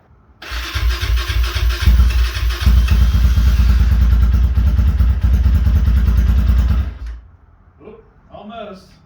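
A 2022 GPX Moto FSE 250E motorcycle cranks and catches on its first start, running at a loud, close, rough idle for several seconds before cutting out; a voice talks briefly afterward.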